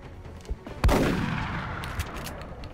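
A single heavy gunshot booms in XCOM: Enemy Within and rolls off in a long echoing tail, with a couple of softer thumps before and after it.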